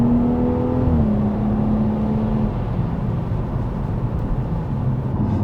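A BMW 540i runs with a loud, steady exhaust drone, its engine note shifting slightly early on and then holding a deep, continuous rumble.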